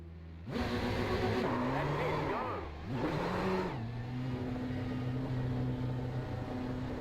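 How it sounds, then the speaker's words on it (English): Racing engine in iRacing, a Ferrari 488 GTE at Le Mans, with a steady, loud drone that rises and dips in pitch as revs change. A second car's approach does not stand out clearly from it. "There's a car approaching."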